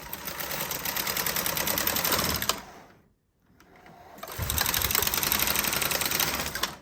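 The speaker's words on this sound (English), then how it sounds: "Each pass of the carriage knits 76 stitches." A knitting machine carriage sweeping across the ribber bed on a pass that knits 76 stitches, with a fast, dense mechanical clatter. It stops briefly when the carriage reverses, then clatters again on the return pass, close and loud.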